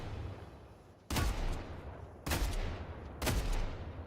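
Three sharp bursts of video game gunfire crack out in quick succession, each a loud, abrupt volley separated by about a second of quieter background noise.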